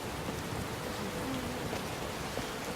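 Steady rain hisses down in Skyrim during a storm, an even, broadband wash of falling drops with no talk over it.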